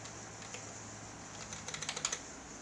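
Someone types on a computer keyboard, a soft run of close keystrokes that quickens into a denser burst of clicks toward the end over a steady background hum.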